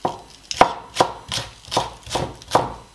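Spring onion chopped with a knife on a board for fattoush salad, six evenly spaced firm thuds at a steady rhythm, close and clear with no talking.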